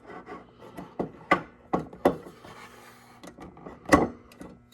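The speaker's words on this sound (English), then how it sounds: "you're going to insert it with the pins facing up" An LED tube's pins being pushed into the socket of a fluorescent light fixture give a series of sharp plastic clicks and knocks, close and irregular, with some light scraping between them and no voices.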